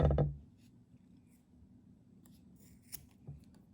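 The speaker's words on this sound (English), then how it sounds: "then just cut the top" Scissors snip through macrame cord for a hanging succulent planter, one sharp close cut at the start followed by faint handling rustles and a couple of small clicks.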